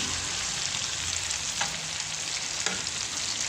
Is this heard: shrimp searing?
yes